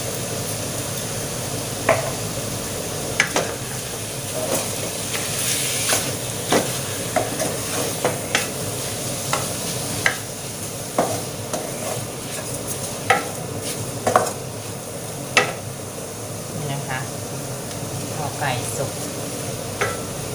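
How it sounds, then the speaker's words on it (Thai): Chicken stir-fried in a pan for a Thai winter melon chicken curry, a steady sizzle running throughout with frequent scraping and clinking spatula strokes against the pan, close and moderately loud. "เราคั่วไก่ให้ พอประมาณนะคะ"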